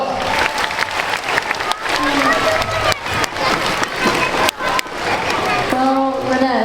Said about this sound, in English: Let's give our volunteers a big round of applause.